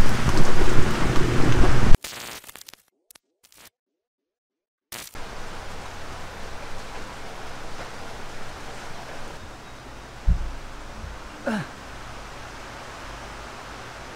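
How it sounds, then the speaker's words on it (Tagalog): Heavy rain pours steadily with broadband hiss, cut by a few seconds of near silence, then returns with a couple of brief low rumbles and sharper knocks that could be thunder. "Grabe ang lakas pa rin ng ulan"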